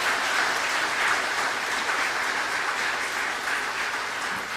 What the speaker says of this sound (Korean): 뒤에 앉아 있는데 박수 한번 해주시고요.